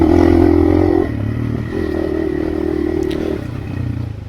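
A Hero Xpulse motorcycle labours up a rocky mountain trail in the Western Ghats, its engine droning loud and close, dipping and rising as the rider works the throttle, with gravel clatter underneath.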